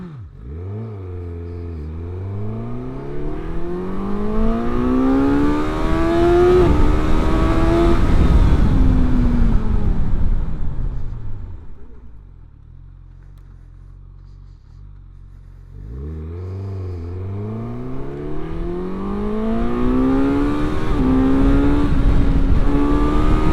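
A Suzuki GSX-S1000GX motorcycle revs up through the gears to about 80, its engine climbing loud and close, then drops away to a low idle and accelerates hard again.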